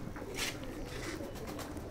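A ferozpuri faqeergull mix-breed pigeon at a home loft setup coos softly, a faint, low, rolling murmur in a quiet room with no one speaking.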